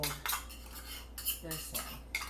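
A butter knife scrapes and clinks against a bowl while folding a mixture, giving several short, close metallic taps and scrapes separated by quiet gaps, with no talking.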